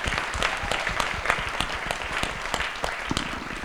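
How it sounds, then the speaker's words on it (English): A live audience applauds at a property investing event, a steady dense patter of many hands clapping continuously throughout. "Please give her a round of applause as well"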